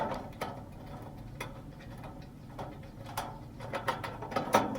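A screwdriver turns screws into a small two-burner Char-Broil propane grill during assembly, making quiet close clicks and ticks in an irregular rhythm that grow busier toward the end, with no talk.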